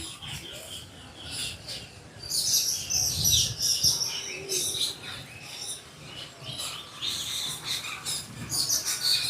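Many small birds chirp and tweet in a jungle-style animal enclosure, a busy flurry of close, bright calls that comes in repeated bursts with brief lulls between.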